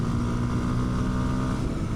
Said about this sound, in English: with this little engine, 17 horsepower, you are often giving it the full beans